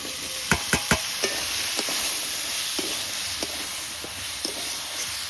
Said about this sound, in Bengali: মশলা কষানো হয়ে গেছে, কেটে রাখা আলুগুলো দিয়ে দিচ্ছি।